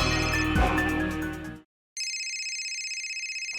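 A mobile phone rings with an incoming call, a repeating electronic ringtone pattern that starts abruptly after a brief pause following louder background sound, steady and close.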